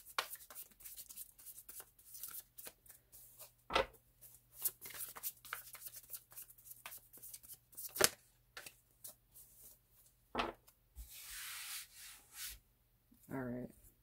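Tarot cards are shuffled and rubbed together in soft, scratchy bursts, with occasional sharp riffles and quiet handling noises close by.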